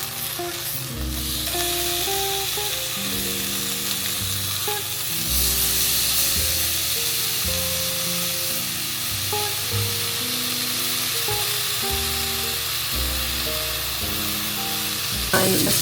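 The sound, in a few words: food frying in oil in a pan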